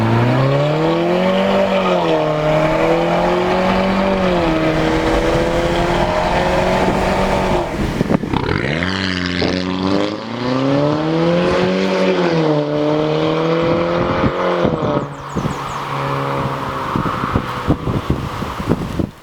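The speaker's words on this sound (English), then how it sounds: "new exhaust system on his Audi A5" A 2-litre turbocharged Audi A5 with a tuned aftermarket exhaust revs loudly and repeatedly, its harmonic engine note climbing and falling in sustained sweeps, dipping briefly midway before rising again, with no talking.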